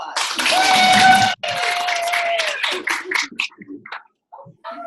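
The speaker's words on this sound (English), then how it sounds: "A big round of applause." An audience at a training session breaks into a burst of clapping mixed with high whoops and cheers, loud at first, then tapering into scattered claps and brief voices before dying away.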